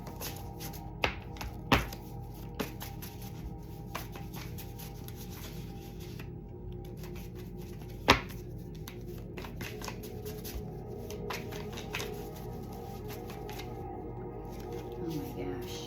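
Tarot cards being shuffled by hand, a soft continuous riffling and sliding with a few sharper taps and slaps, close and fairly quiet over a low steady background hum.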